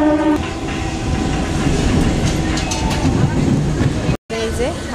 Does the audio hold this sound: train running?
yes